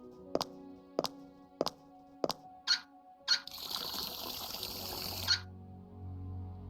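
A video game sound effect of water being poured and drunk: a string of short, evenly spaced clicks, followed by a couple of seconds of soft pouring and trickling water, all faint and isolated.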